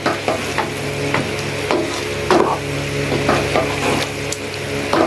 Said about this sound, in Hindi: कलेजी हमारी 1 kg है। इसको अब हम 5 से 7 मिनट अच्छी तरह भून लेंगे।